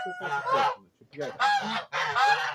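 Geese honk nearby in three loud, nasal bursts separated by brief pauses.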